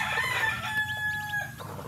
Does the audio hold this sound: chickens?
yes